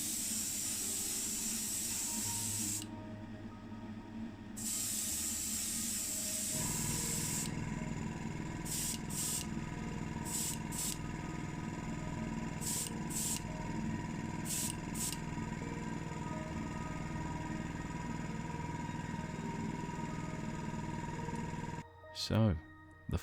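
Tamiya TS13 clear lacquer sprayed from an aerosol can onto a restored Matchbox No 50 Commer Pick Up Mark VIII model, heard as several short, close bursts of hissing spray with brief pauses between them over a steady background.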